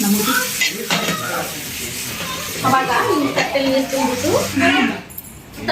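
Kebab frying in a pan in a home kitchen, a loud continuous sizzle with clinks of utensils against the pan while a person talks over it.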